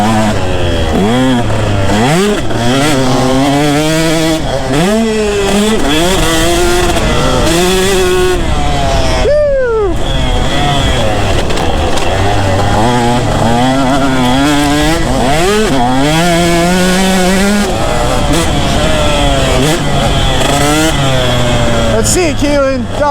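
A vintage Suzuki two-stroke dirt bike is ridden hard over jumps, its engine screaming loud and close through repeated revs that rise and fall, with a brief drop near the middle before it winds up again.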